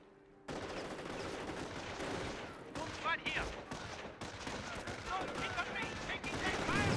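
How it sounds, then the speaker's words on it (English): Stun grenades and small-arms fire in the Company of Heroes 1 real-time strategy game, with a dense stream of pops and crackling bursts, loud and steady throughout, with a voice talking over the battle. "No, those are stun grenades."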